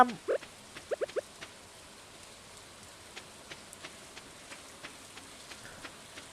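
Rain falls in the video game Stardew Valley as light, scattered patter with sparse drips ticking at irregular intervals. A few louder taps and clicks near the start stand out before the quiet rainfall carries on alone.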